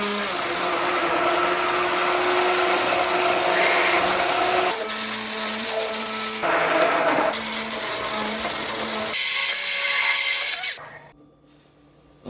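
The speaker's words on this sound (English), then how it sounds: "So we're gonna blend this up. Got my hand mixer here." A hand mixer blends potatoes and vegetables with a steady, loud motorized whir that shifts pitch and texture several times as it churns the thick mix, then cuts out abruptly near the end.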